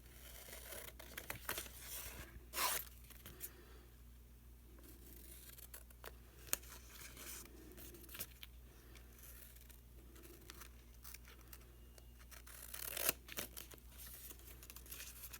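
Scissors snipping around a paper craft piece, quiet irregular cuts with sharp louder snips near the start and end, close and alone with faint rustling paper.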